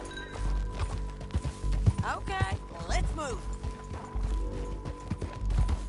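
Horse hooves clip-clop steadily while riding in Red Dead Redemption 2, moderately close, with game voices talking over the gait and short bursts of other in-game sound.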